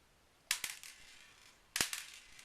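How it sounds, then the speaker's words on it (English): Lead shot pellets drop onto a tray in two sharp, brief clattering bursts with scattered small ticks after each, close and quiet. "if you're hearing that, you're hearing some shot falling out"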